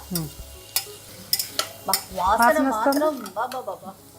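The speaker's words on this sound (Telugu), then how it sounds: "అది నూనెలో పడేసరికి టమాటాలు ఒక రెండు టమాటాలు వేసుకున్నాము కొద్దిగా వేగనివ్వండి దీన్ని కూడా" Two tomatoes dropped into hot oil hiss softly beneath sharp scrapes and taps of a spoon against the pan, while someone talks over much of the cooking.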